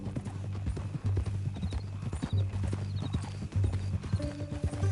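Horse hooves clip-clop steadily at a walking pace in the Western video game Red Dead Redemption 2, close and clear over a low steady background hum, with an occasional faint whinny.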